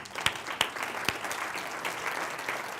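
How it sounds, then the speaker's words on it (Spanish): Audience applause fills a seminar hall, a steady wash of clapping with a few sharper claps standing out early on, moderately loud and continuous throughout. "así que un aplauso para él."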